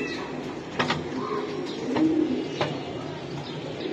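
Racer pigeon chicks in a breeder's loft give soft, low coos against a busy background hum, with a few faint clicks and knocks scattered through, quiet and steady throughout.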